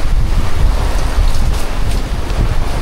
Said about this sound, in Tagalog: ang lakas talaga ng hangin